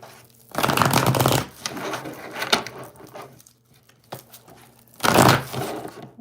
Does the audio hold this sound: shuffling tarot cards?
yes